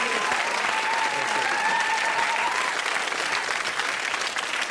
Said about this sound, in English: Dean, give him a big round of applause,